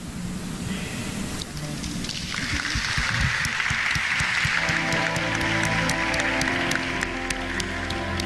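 An audience at a vocational guidance talk claps, the applause swelling from scattered hands into dense sustained clapping, with a brief voice early on and a faint musical tone underneath.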